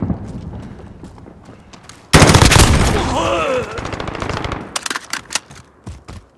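Rapid automatic gunfire crackles in a Call of Duty Modern Warfare multiplayer match, a dense loud burst that breaks into scattered single shots, with faint distant firing before it.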